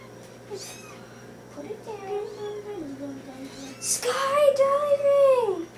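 Cats meowing repeatedly at close range, with several drawn-out, rising and falling meows that grow louder near the end, while a voice is heard faintly in the background.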